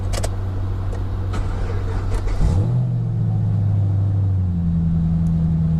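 A car engine rumbles at idle, then its tone rises and settles into a higher steady drone as it is revved, close and continuous throughout.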